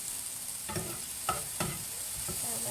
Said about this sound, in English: let's just saute up these little tomato chunks